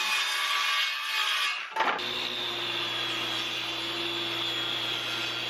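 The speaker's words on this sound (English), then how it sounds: "use a table saw to rip it in half" A table saw ripping a wooden board in half, its loud steady whine and cutting noise running on, then briefly dipping with a thud before the motor hum settles into a steady drone, heard close with no talking.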